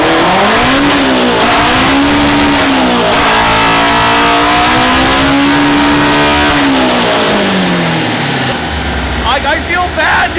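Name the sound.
K-swapped Toyota AE86 engine revving on dyno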